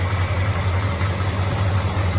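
A muscle car with power steering and power brakes idles steadily, a smooth low engine rumble held close and even for the whole stretch, with no talk over it.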